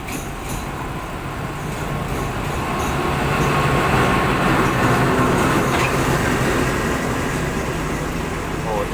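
Train 258 hauled by locomotive number 4227 pulling into Thonburi station, a steady loud rumble of wheels and engine that swells in the middle and eases slightly toward the end.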